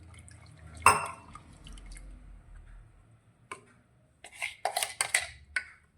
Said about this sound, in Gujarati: હવે જારમાં આપણે થોડું પાણી લઈ અને બધું જ હલાવી અને અંદર લઈ લઈશું।